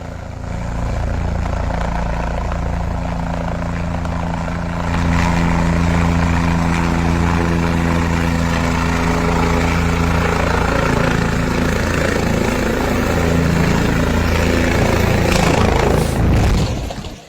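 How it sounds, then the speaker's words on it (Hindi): A helicopter roars close by as it lands, its engine drone and rotor hum steady and loud, growing slightly louder before cutting off abruptly at the end. "हमने एम्बियंस भी आपको सुनाई हेलीकॉप्टर की लैंडिंग की"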